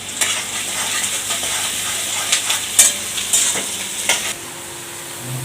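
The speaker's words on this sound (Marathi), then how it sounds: "छानपैकी असा गुलाबी रंगावर परतून घ्यायचा आहे आपल्याला" Three medium onions sautéing in a pan until pink for bread cutlets: a steady close sizzle with intermittent scraping stirs and clinks of a spoon, no talk.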